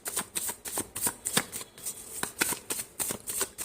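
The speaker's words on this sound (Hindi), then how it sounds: "let us shuffle the cards" A deck of tarot cards is shuffled close by in quick repeated riffling bursts, a steady rhythmic flutter of crisp card slaps with nothing else heard.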